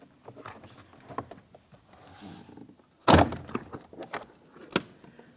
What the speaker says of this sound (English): Let's go ahead and remove that door panel from the door.